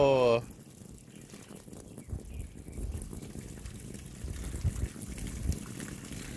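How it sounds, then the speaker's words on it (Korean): Clear mountain-valley water from about 600 m up gushes steadily into a newly built backyard pond, a continuous broadband rush that swells slightly over time, with excited voices and chatter mixed over the flow. "우리들의 연못, 이제 물 받겠습니다"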